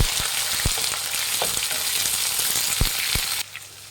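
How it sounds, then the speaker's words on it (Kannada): Chopped onions with peanuts and chana dal fry steadily in hot oil for mango rice, a dense continuous sizzle broken by a few sharp stirring clinks, the frying dropping away abruptly near the end. "ಈಗ ಒಂದೆರಡು ಈರುಳ್ಳಿ ಉದ್ದಿದ್ದು ಕಟ್ ಮಾಡ್ಬಿಟ್ಟು ಹಾಕ್ತಾಯಿದ್ದೀನಿ"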